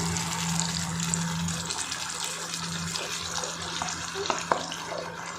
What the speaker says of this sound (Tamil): இப்போ நான் இதில் நம்ம அரைச்சி வச்சுருக்கேன் இந்த தக்காளி வெங்காயம் பேஸ்ட்டை சேர்த்துக்கிறேன்